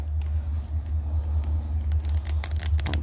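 A repaired zero-turn mower's engine runs at a steady, loud low rumble close by, with scattered crackles and rustles on top toward the end and no talk.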